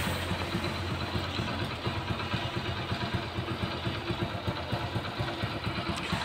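A Hero HF Deluxe motorcycle engine runs steadily on petrol, a loud, close, even idle with a fast regular thrum and a faint metallic clatter, with no voices.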